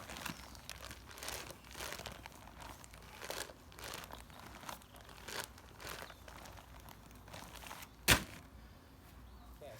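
A compost bag swung in an outdoor wood chop exercise crinkles in repeated rhythmic swishes and rustles, about one per second, close by, with a single sharp crackle near the end and no talk.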